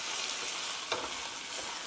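Noodles stir-frying in champon sauce in a hot pan give a steady, fairly quiet sizzle with one sharp clatter of a utensil partway through, and no voices.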